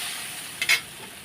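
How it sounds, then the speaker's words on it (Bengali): Masala with tomato and turmeric is stirred while it fries in a pan: a soft, steady sizzling hiss is broken by one quick, close scrape of the spoon. "এবার আমি মশলাটা কষিয়ে নেব।"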